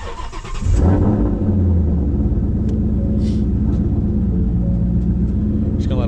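A Ford Coyote V8 settles into a steady, loud, rumbling idle after a ported throttle body install, with a brief rev at startup and the engine running alone.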